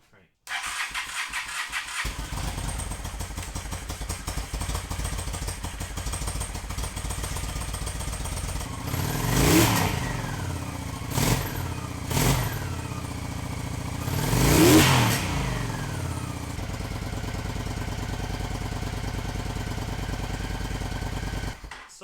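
A Honda VT750 chopper motorcycle engine cranks over and settles into a steady idle that runs the length of the clip, with a couple of louder blips around the middle, while people talk over it in a garage.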